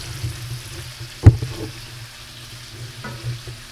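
Honey sriracha chicken in its glaze sizzles steadily in a hot pan, a low continuous frying hiss broken by one sharp clatter partway through.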